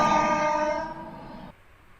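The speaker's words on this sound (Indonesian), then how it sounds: "pendengar atau pengamat ini akan mendengarkan suara klakson mobil kurang lebih seperti" A car horn blares loudly while passing the listener, holding a steady tone that drops in pitch partway through and then cuts off abruptly in a two-second Doppler demonstration.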